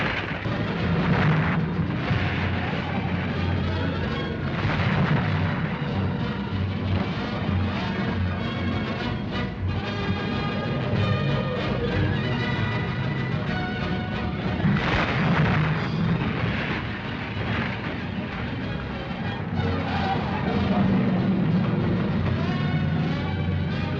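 Racing cars in a crash race roar and bang through a continuous loud, rumbling din of engines and impacts, with dense crunching bursts and no letup throughout.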